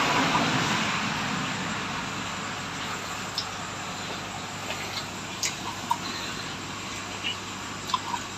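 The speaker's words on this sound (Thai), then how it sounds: "มันมีเครื่องบินไอพ่น เขาฝึกกันฝึกบินนะครับ" A military jet aircraft on a training flight makes a steady, distant broadband roar that fills the whole stretch, with a few faint ticking sounds on top.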